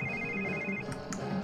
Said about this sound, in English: Oh, he's getting another phone call.